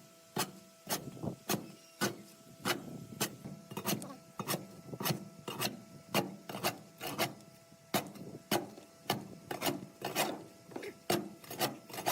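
Repeated rasping, scraping strokes of a large shovel clearing piles of rust flakes and debris from an abandoned, long-submerged KIA truck, a steady rhythm of roughly two scrapes per second, close and continuous with no talk.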